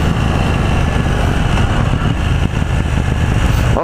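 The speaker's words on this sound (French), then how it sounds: "Oh, puis le pot d'échappement qui pétarde comme ça." KTM Duke 790 A2 2018 motorcycle exhaust heard while riding, a loud continuous engine roar with rough crackle, steady throughout before cutting off abruptly at the end.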